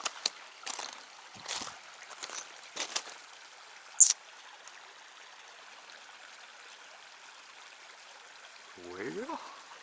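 Along a woodland connector trail, a cold stream flows and trickles steadily nearby, with a few splashy bursts from wading early on and a brief whistle-like sound near the end.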